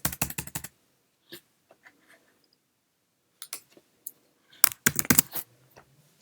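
Keystrokes on a Mac computer keyboard: a quick burst of taps, a few scattered clicks, a pause, then another dense flurry of crisp, close typing with no voice.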